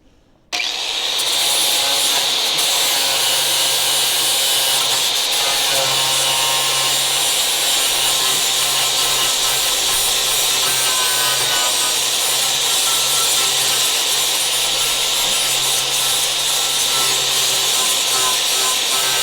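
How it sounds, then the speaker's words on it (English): A flap disc grinds away a small nub of metal on a Charger body during restoration, a loud, sustained abrasive whir that runs continuously, close up and without pauses. "see if we can get the flap disc in there to get that little nubbin off"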